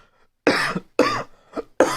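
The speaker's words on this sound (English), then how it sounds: "I have a wicked cough" A series of four harsh, raspy coughs, close and loud, spaced about half a second apart with brief silences between.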